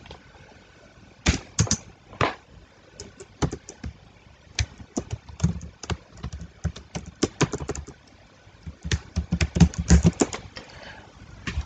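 Typing on a computer keyboard while entering a Python string, with irregular clusters of sharp, close key clacks that speed up into a dense flurry near the end, loud and clear and with no voices.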